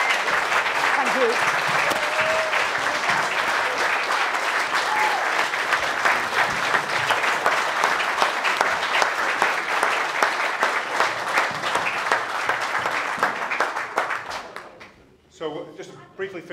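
Sustained audience applause fills a hotel function room after a political speech, dense and steady for about fourteen seconds before fading, followed by a brief moment of quieter room sound.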